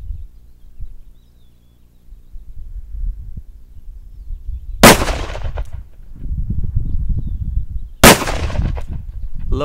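Two loud, sharp .44 Magnum revolver shots fired outdoors at a small steel plate, spaced about three seconds apart, each a crisp blast with a brief tail, over a low background rumble.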